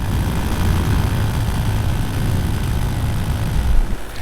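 Aircraft engine of a Minari F1 light plane in flight over Koh Larn, a steady loud drone with no pauses, being tested for a power issue.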